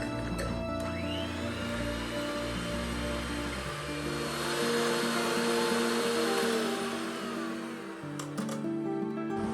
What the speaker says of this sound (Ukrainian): Яйця та цукор збиваємо в пишну піну.